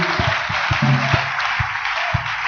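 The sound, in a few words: congregation applauding in church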